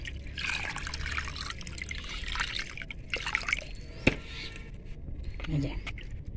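Water trickles and splashes as it is poured in small amounts into a soaked groundnut and mustard fertilizer mix for chilli plants, a soft, uneven dribble under a person talking.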